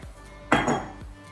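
A utensil clinks and scrapes against a pot while marinara sauce is stirred, giving a brief close clatter between quieter moments.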